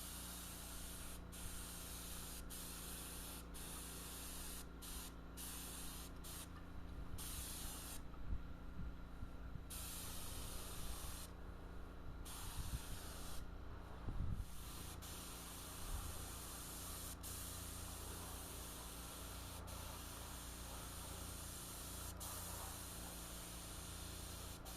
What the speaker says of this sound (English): I use a pressurized, just an air sprayer